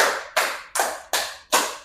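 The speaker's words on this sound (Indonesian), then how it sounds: "Tepuk 5." A classroom of students claps together five times in a steady, even rhythm on a teacher's count during an acids-and-bases lesson; each sharp, loud clap stands alone without any voices.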